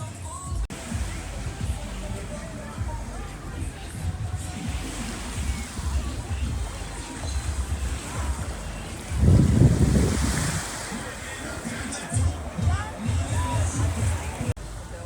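Surf washes onto a beach in Curacao with steady wind buffeting the microphone. Waves rumble continuously, with a louder crash swelling near the middle.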